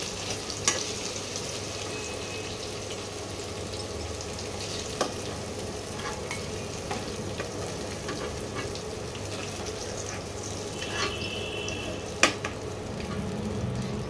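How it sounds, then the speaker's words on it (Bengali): Potatoes fry in hot oil with a soft, continuous sizzle that sits low in the mix, and a few faint clicks and clinks come through against a steady background. "একটু ভেজে নিই আলুগুলো ভাজা ভাজা হয়ে গেছে।"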